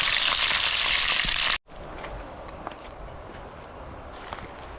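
Food frying in a pan, a dense steady sizzle that cuts off abruptly partway through, leaving low background noise with faint clicks.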